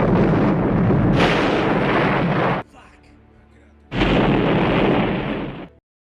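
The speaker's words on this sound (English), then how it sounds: "Then blew up a gas station" A gas station blows up in the action film Rambo: two loud, sustained explosive roars separated by a short quiet gap, each rumbling for a couple of seconds before cutting off.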